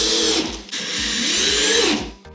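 A power drill drives screws into the bottom of a ready-to-assemble kitchen cabinet, a loud close whirring motor with stuttering bursts and brief pauses over a couple of seconds before winding down.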